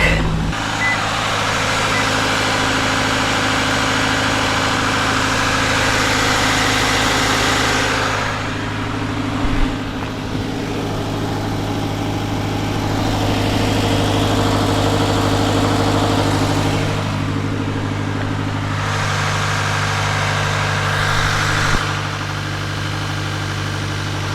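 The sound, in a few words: Subaru Crosstrek engine idling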